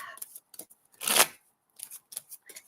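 Crisp papery riffling and slapping of tarot cards being shuffled, with one longer brisk riffle in the middle and lighter taps around it, close up.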